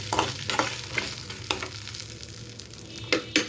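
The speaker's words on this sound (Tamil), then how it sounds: "தக்காளி லைட்டாக வதக்கி எடுத்துட்டு" Tomatoes sauté lightly in a pan for rasam, a steady soft sizzle with intermittent scraping stirs of a spoon, close and alone without talk.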